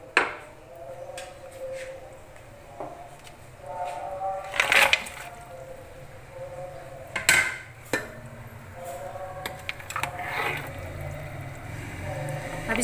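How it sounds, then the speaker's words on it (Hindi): Mutton trotters (paya) dropped into a boiling pot of spiced liquid for an Eid-ul-Adha dish, giving a few loud clattering splashes and metallic clanks over a steady bubbling background. "अब इसके अंदर हम पाए डालेंगे।"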